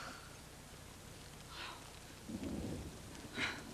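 Rain falls with thunder in a drama scene: a faint, steady hiss of rain runs throughout while a low rumble of thunder swells briefly midway, all quiet and distant.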